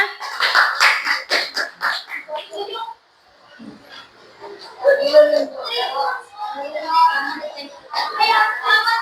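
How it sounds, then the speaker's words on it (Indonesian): Children clapping their hands, with a quick burst of rapid claps at the start, followed by children's voices and an adult talking. "selanjutnya tepuk tangan dulu ya teman-temannya"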